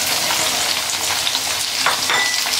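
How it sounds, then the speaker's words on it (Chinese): Dried tofu and mixed vegetables are stir-fried in a hot wok, giving a loud, steady oil sizzle with soft scraping and shuffling of the food throughout. "豆腐干炸的发黄，把配菜放进去"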